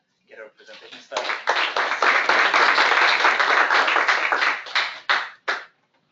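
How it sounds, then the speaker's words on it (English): Applause from a small seminar audience welcoming a speaker on pavement sustainability, a few scattered claps swelling into several seconds of modest clapping before tapering off in separate final claps. "Let's just give her a round warm of applause and get her presentation started."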